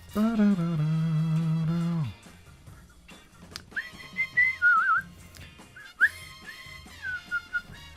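A person whistling a melody while drawing, first a steady sustained tone, then a wandering tune of rising and falling notes, close and clear over faint room noise.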